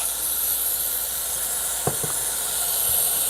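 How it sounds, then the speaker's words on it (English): An espresso machine's steam wand releases a loud, continuous hiss up close, with a few faint clicks and knocks midway, ready for steaming milk for a caramel latte. "And then I'm gonna start the steam."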